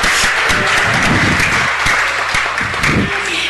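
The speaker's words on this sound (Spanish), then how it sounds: "un gran aplauso para ellos" An audience at a city council meeting applauds high school students, steady loud clapping throughout with faint voices underneath.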